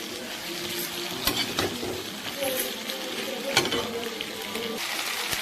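Onions fry over a low flame for a chilli cabbage dish, making a steady close sizzle with occasional stirring scrapes and clinks.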